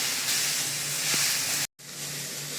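Coriander and mint leaves fry for chicken chops in a pan with a steady, close steamy hiss and sizzle, broken by a brief cut of silence before the sizzling resumes.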